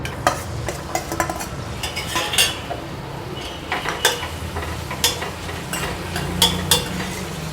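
Onions frying in hot oil in a pan, a steady sizzle broken by frequent scraping stir strokes and light metallic clinks, close and clear.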